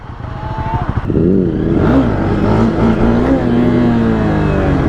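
A Honda CBR300R single-cylinder motorcycle revs up loud and close, its engine pitch climbing through rising throttle bursts into a sustained high drone.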